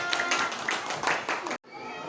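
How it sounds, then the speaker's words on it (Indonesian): Classroom applause for a student group, a dense burst of many hands clapping with excited voices mixed in, cutting off abruptly near the end and giving way to quieter room noise. "Tepuk tangan. Hebat kelompok A."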